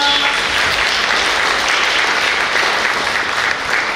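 A forum audience claps for the district council members and party members, a continuous loud wash of many hands that holds steady throughout and eases slightly at the end.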